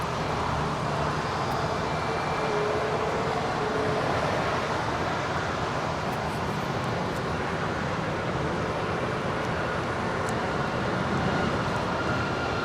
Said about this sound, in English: That is a 3-year-old 737 MAX 9 departing to Houston